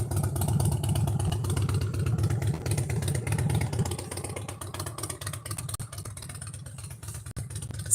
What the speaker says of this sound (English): Hopefully the motorcycle will go by quickly so that you can hear me clearly.